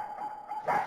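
A short dog bark or yip from the Pocket Mirror video game, a single brief call that rises at the end, near and moderately loud.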